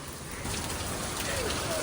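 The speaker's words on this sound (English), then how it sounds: "Have you never seen hail before?" Hail pelts down in a dense, steady roar during a thunderstorm in Positano, Italy, hard and close, with faint voices in the background.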